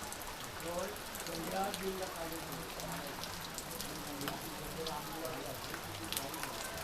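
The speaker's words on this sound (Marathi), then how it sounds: "पाऊस खूप पडलेला आहे आपल्याकडे" Heavy evening rain patters on the clay-tiled roof of a Konkan village house in Rajapur, a soft, steady drumming heard faintly throughout, with occasional talking over it.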